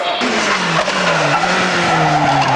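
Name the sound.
racing car spinning with tyre squeal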